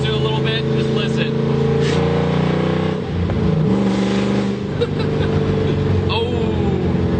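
A 3-valve Ford Mustang running without mufflers downshifts to third, its loud, raspy engine droning and revving steadily throughout with a brief dip midway, and a voice may be faintly present beneath the roar.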